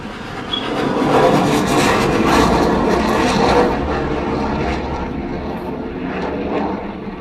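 Airplanes pass overhead near a beach on the oceanfront, a loud broad roar that swells over the first few seconds and then slowly fades, with no talk over it.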